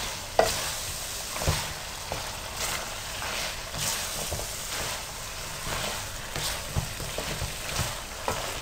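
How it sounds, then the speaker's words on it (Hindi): Fried mixed vegetables stirred and tossed together in a pan for a vegetable korma, a steady close sizzle with repeated scraping stirs and no talk. "अब इसमें सब फ्राई की हुई सब्जियां डालूंगी। इसमें और इनको अच्छी तरह से मिक्स करें।"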